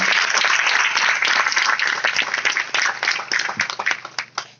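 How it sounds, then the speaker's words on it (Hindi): A crowd at a Vestige marketing plan meeting gives loud applause. The dense clapping starts strong and holds, then thins into scattered individual claps that fade out by the end. "एक बार जोरदार तालियां वेस्टीज मार्केटिंग प्लान के लिए"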